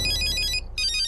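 A mobile phone ringtone plays a bright repeating electronic melody, loud and close, with a brief gap mid-phrase before it resumes, no speech over it.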